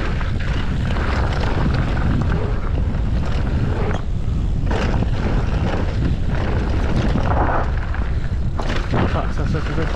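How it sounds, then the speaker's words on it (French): Strong gusts roar steadily across the microphone at an outdoor bike park, a loud continuous buffeting rumble that stays heavy for the whole stretch with no pause. "Ça souffle énormément."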